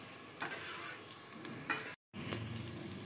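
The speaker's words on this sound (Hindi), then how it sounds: "इनको सबको अच्छी तरह से मिक्स कर लें।" Green chilies, cumin and whole garam masala, including black cardamom, are stirred in hot oil in a pan, giving a steady sizzle broken by several scraping strokes of a spoon and one brief dropout, close and quiet with no talking.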